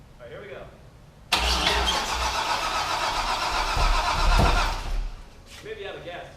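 A Corvette C5 Z06 engine cranks and fires, then roars at a loud, rough idle for several seconds before settling. The car is in for frame straightening, and people talk faintly before and after.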